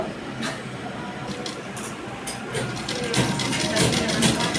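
A sewing machine runs steadily while stitching a round churidar neckline, its mechanical whir and repetitive clatter continuous throughout and growing slightly louder toward the end.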